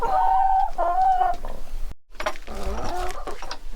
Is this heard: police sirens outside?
no